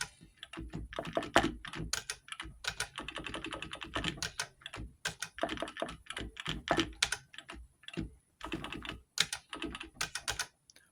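Keys are typed in rapid bursts on the keyboard of a two-player pedestal arcade machine to search a game name, close clicky clatter with short pauses between runs.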